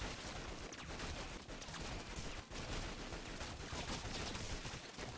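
A modded gun fires in the video game Rounds as a fairly faint, dense clatter of gunshots with brief gaps, continuous across the whole stretch and heard with no voices.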